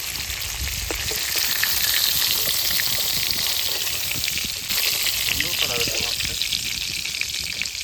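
Prawns fry lightly in a hot pan of oil for a Bengali prawn malai curry, giving a loud, dense, continuous sizzle close by, with a voice faintly heard at times.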